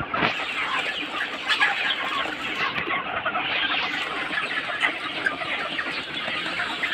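A crowd of broiler chickens and roosters on a poultry farm clucks and chatters continuously, a dense, busy flock sound at close range with no talking.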